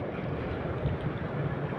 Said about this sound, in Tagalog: Ayun na, hampas na naman ang alon no.